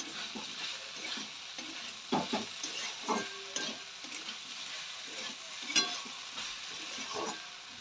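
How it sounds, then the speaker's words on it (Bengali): Carrot curry fries in a pan while being stirred, producing irregular scraping strokes over a soft, continuous sizzle, with several sharper scrapes and no talking. "এবার আরো একবার নাড়ব।"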